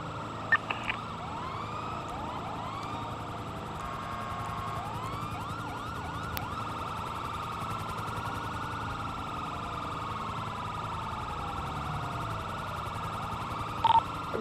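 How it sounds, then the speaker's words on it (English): Police car sirens in a game, several wailing tones overlapping and sweeping continuously beneath steady road noise, loud and close for the whole stretch. "Just turn your annoying sirens on."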